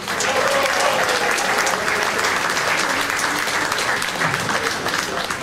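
Audience applause at a Poznań rock'n'roll anniversary concert in a jazz club, dense steady clapping from a crowd sustained throughout, with faint murmuring underneath.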